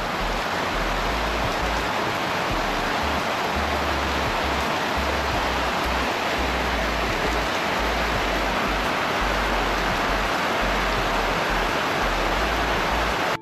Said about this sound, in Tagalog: Habang umuulan